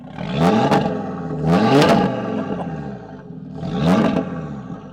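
An Audi RS3's five-cylinder engine revs hard three times through a full Miltech exhaust, each rise swelling to a throaty roar before falling back to a burbling idle.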